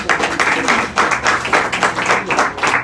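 A church congregation claps together in a steady burst of applause, dense and sustained for a few seconds without a clear voice over it.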